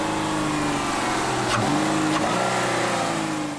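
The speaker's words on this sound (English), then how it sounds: "The power for the Charger SXT comes from Chrysler's new Pentastar engine." A 2012 Dodge Charger SXT with the Pentastar 3.6-litre V6 drives steadily, its mid-range engine hum continuous and fairly loud, with a brief shift in tone near the middle and no talking.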